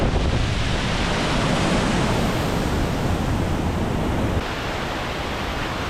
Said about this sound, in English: Amazing waterfall.